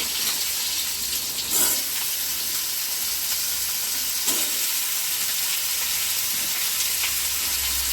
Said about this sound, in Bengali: শুকনো লঙ্কা ফোড়ন দিয়ে দিলাম